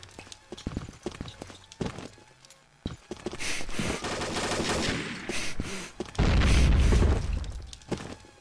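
Gunfire in the shooter video game CrossFire: sharp bursts of shots and rapid automatic fire, some isolated cracks early, then dense loud volleys with impacts, no talking.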